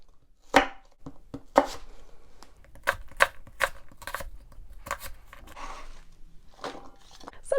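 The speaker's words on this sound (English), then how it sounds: "Some of these pieces you can cut them a little smaller." Knife chopping apples on a cutting board, a sparse, uneven series of crisp close taps and cuts with short pauses between them, and no voices.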